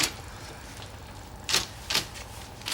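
A typewriter clacks on a kitchen table during a typing lesson. A few sparse, quiet key strikes come at irregular intervals over a soft background hiss, with no talk.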